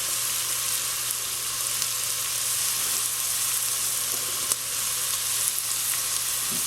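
A flour roux cooks in chicken liver drippings with small liver bits still in the pan, giving a constant, even sizzle with faint crackles and a low steady hum beneath.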